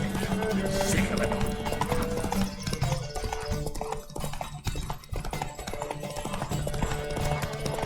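Horse galloping in a race in the video game The Witcher 3, rapid rhythmic hoofbeats under a music score with occasional voice and whinny.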